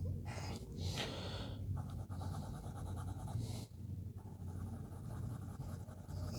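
NOS Beena fountain pen nib scratching across paper, a steady soft scraping with brief strokes and pauses, close and faint, without talk.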